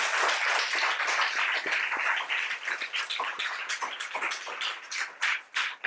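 Loud, sustained audience applause at a Lakshya Foundation event, dense clapping from a crowd that fills the whole span and thins slightly toward the end with a few louder individual claps.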